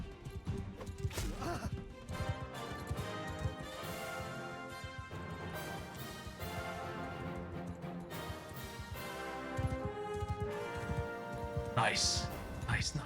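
A Sumpter horse gallops in Mount & Blade 2: Bannerlord, its hoofbeats drumming under game music and battle noise while someone talks over it.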